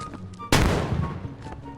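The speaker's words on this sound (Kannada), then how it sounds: "Lakshmi atom bomb." An atom bomb firecracker goes off in a mobile open-world game, a single sharp, loud blast that cuts in abruptly and then rumbles and decays over about a second. Faint game ambience runs beneath.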